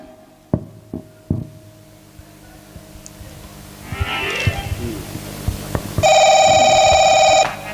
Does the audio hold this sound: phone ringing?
yes